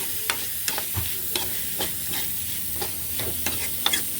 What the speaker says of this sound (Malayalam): ഗ്യാസ് ഓഫാക്കാതെ നല്ല ഉള്ളി വഴറ്റി തുടങ്ങിയിട്ടുണ്ട്.